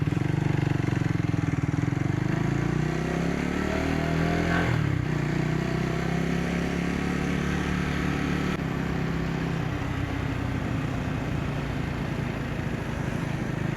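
A Triumph Tracker 400 motorcycle ridden on road, its engine loud and close throughout, with the pitch climbing under throttle, a brief shift near the middle, then a sustained steady drone with wind noise.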